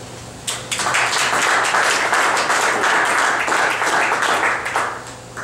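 Audience clapping at a startup pitch event in St. Louis, starting softly then swelling into a full, steady round of close applause with scattered distinct claps, tapering off near the end.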